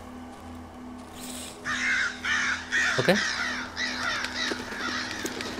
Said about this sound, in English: That's a bunch of crows.